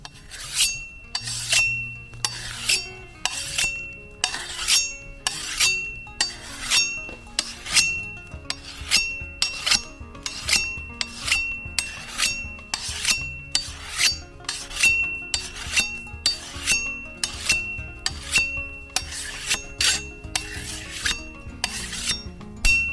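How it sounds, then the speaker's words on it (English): A machete blade being sharpened with steady, rhythmic rasping strokes, each scrape bright and close, repeating evenly about once per second with no voices. "So I go and sharpen the machete"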